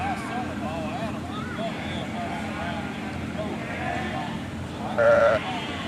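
A ewe bleats several times to her newborn lamb in a birthing barn amid steady background rumble, with one louder, closer bleat near the end.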